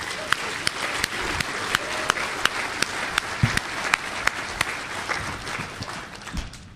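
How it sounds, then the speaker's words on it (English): Audience applause at a DEFCON hacker conference talk, a steady crowd of hands clapping with sharp individual claps standing out, sustained and fairly loud throughout. "I want y'all to give Doodle a big old round of applause."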